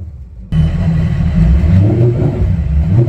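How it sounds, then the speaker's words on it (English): A Mercury outboard engine with sport exhaust on a Boston Whaler boat starts abruptly after a half-second of quiet, then settles into a loud, throaty, steady idle rumble with slight revving. "So let's fire it up one more time and have a listen to the sport exhaust."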